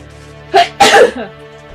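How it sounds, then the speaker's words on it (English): A single sharp sneeze up close, a quick intake of breath followed by the forceful burst, then quiet. "I'm about to sneeze"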